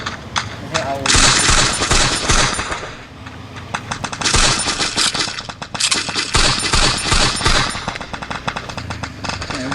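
Dense bursts of rapid automatic gunfire from a shooting video game, loud and near, rattling almost continuously with brief lulls, while a voice talks over the action.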